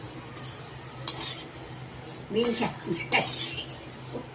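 Poha stirred in a pan until crisp, a utensil scraping and clinking against the metal in a few uneven strokes, with a voice talking faintly over it.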